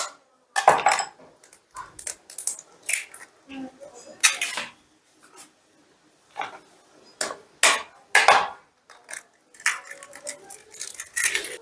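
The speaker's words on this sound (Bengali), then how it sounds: "এই বাটির মধ্যে আমি 2টো ডিম ফাটিয়ে নিচ্ছি।" Two eggs are cracked against a bowl in a home kitchen, a series of sharp taps and clinks of shell on the bowl's rim, close by and irregular, with brief pauses between strikes.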